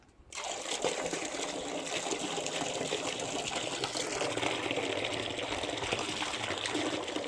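A hose sprays water steadily near a chicken coop, a constant hissing gush starting abruptly after a brief pause and running unbroken at moderate, fairly close level with no talk over it.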